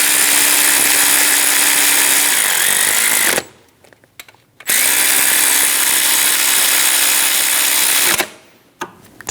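A power tool tightens the pulley bracket bolts on a 2005–2009 Subaru Legacy during a timing belt job. It comes as two loud, steady whirring bursts of about three seconds each, separated by a short quiet gap.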